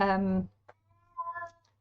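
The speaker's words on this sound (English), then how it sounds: "Oh my goodness, my cat. He's a beautiful old boy. He's a Maine Coon cross, so he's rather large" A large, elderly Maine Coon cross cat gives one clear meow, followed by a few quieter, shorter vocal sounds close by.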